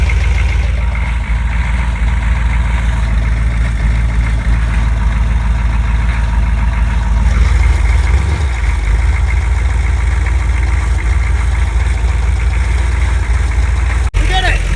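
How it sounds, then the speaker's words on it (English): A big truck's engine idles steadily throughout, a loud, continuous low rumble with a faint knocking texture, while people talk over it. "It's idling!"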